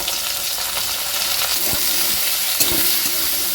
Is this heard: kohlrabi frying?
yes